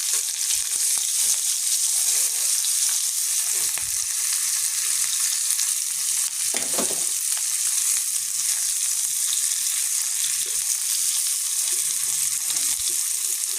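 Onions fry in hot oil in a pan while cooking an egg and potato dish, giving a steady, close crackling sizzle throughout with occasional stirring scrapes and no talking.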